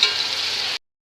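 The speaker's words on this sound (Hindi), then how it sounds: "2 से 3 सेकंड के लिए हाई फ्लेम पे इसको हम फ्राई कर रहे हैं।" Garlic ginger paste frying on high flame for egg fried rice gives a loud, bright sizzling hiss that lasts under a second, then cuts off abruptly.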